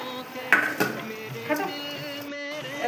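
Fried potatoes go into a boiling curry with a few clinks and scrapes of a spoon against the pot over a low simmering background, the knocks spaced out and fairly close.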